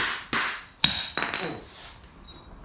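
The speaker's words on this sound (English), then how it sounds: "Go ahead and hit it a couple of times." Metal striking a stuck part while building a 454 engine for a 1972 Camaro, several sharp hammer-like impacts at close range, one with a ringing metallic tone, spaced irregularly over a quiet background.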